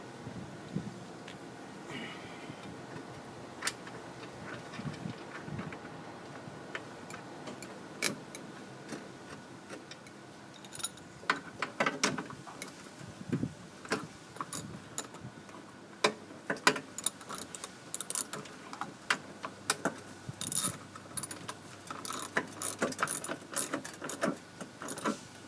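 Nuts being tightened onto the wheel bolts of a push mower deck, a steady run of small ratcheting clicks and metallic ticks that grows busier and louder toward the end, with no talk.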